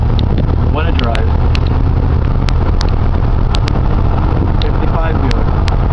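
A 1955 Buick Century, the 'Banker's Hotrod', driving with a loud steady engine drone and heavy wind rush, with people talking over it.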